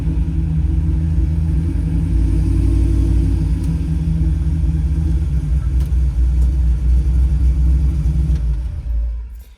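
A supercharged 1968 Camaro drives along on a test run, its engine a steady, loud, deep rumble heard from inside or close by, holding a constant drone before easing off at the end, with no talking.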